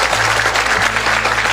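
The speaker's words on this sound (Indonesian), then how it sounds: "saya mohon Anda semua tepuk tangan ya" Brief, continuous burst of audience applause at a Javanese religious talk gathering, even and fairly loud, with a steady low hum running underneath.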